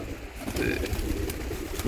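Pigeons of a long-bodied Polish breed coo inside a loft, soft low throaty calls close by, with a faint higher chirp briefly heard.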